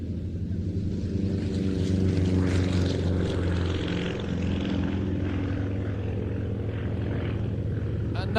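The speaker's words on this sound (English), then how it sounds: "Several other aircraft powering up, ready for their part in today's display." Yak propeller aircraft power up together at an airshow, a loud, steady, layered engine drone with a throbbing prop beat that rises slightly and holds, with faint talk beneath.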